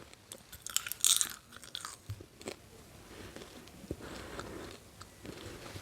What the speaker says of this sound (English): By the way, this popcorn is not crunchy.